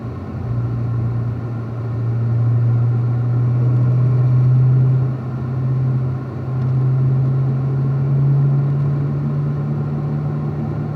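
A car cruises around a race track in fifth gear, its engine a steady droning hum that swells and eases as it moves, heard from inside without voices.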